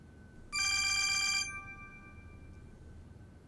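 A telephone rings indoors: one bright, trilling burst of bell-like ringing lasting about a second, then a fading ring-out over a quiet room hum.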